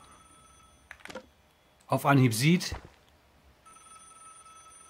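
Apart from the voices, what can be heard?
telephone ringing in the video game Vigor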